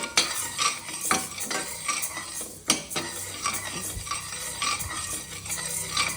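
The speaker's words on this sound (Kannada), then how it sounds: "ಉದ್ದಿನಬೇಳೆ ಹುರ್ಕೋತಾ ಇದ್ದೀನಿ" Urad dal roasting in a pan, stirred with a utensil that scrapes and clinks against the metal in quick irregular strokes over a soft, close dry sizzle.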